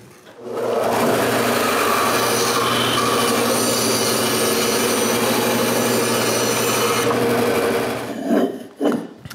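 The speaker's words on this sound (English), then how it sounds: "I use the bandsaw to remove the waste." A bandsaw cuts waste from a walnut block, a loud, steady whining buzz of the blade through wood held for about seven seconds before winding down, with a few knocks of handling at the end.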